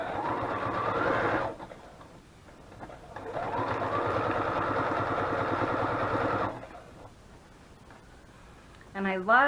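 A sewing machine stitches in two loud steady runs, the second longer, as it sews in a circle around a paper doily in pink thread, with brief quiet gaps between runs.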